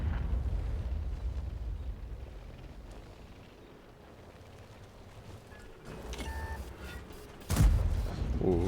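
A tank cannon fires in a tank video game: one loud, sharp blast with a booming tail, rising out of a low rumbling battle background.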